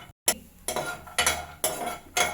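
Almonds and cashews being stirred as they dry-roast in a pan, a spoon scraping and clinking in about five distinct strokes, close and fairly loud.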